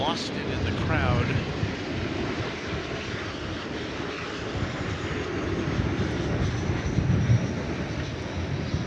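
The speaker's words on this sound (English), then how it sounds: "Flight that just landed was Flight 1857 from Austin" An airliner landing at DFW Airport gives a broad, rumbling engine roar that swells and fades slightly, heard from a distance with voices murmuring over it.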